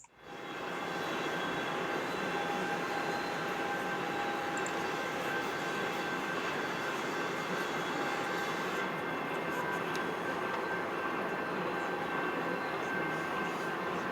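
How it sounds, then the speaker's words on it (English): A locomotive on a model train layout, running as a steady, continuous mechanical rumble and hum that fills the whole stretch at an even level, close and alone with no talking. "Yep, same locomotive."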